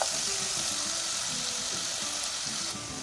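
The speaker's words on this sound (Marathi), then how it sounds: "हे बघा, पेस्ट आपल्याला चांगली तेलामध्ये अशी परतून घ्यायची आहे." Ginger garlic paste frying in oil for mutton rassa, a dense, continuous close sizzle with faint stirring underneath, heard alone.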